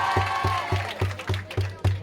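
A crowd at a Purim film screening applauds and cheers, with a broad wash of clapping and voices under a steady rhythmic thumping beat of music.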